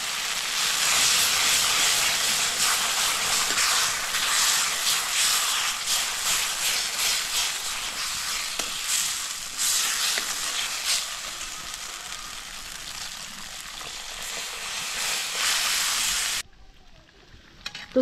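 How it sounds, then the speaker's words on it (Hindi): Steady loud hissing and sizzling as water is poured into a hot pot of nettle greens, lasting several seconds before cutting off abruptly near the end. "यहाँ पे साग में हमने पानी डाल दिया है और इसको हम थोड़ी देर उबलने देंगे"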